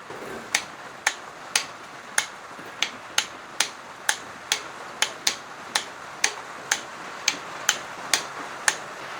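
A wrench clicks in a steady, regular rhythm, evenly spaced sharp ticks close by and fairly quiet, as engine bolts on a Honda D17A2 high-compression short block are tightened to 24 newton meters.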